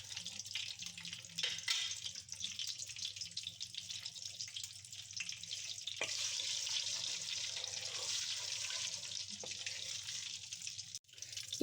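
Whole garam masala fries in hot oil for a Pakistani dhaba-style daal mash, giving a quiet, steady sizzle with a few soft pops and clicks along the way.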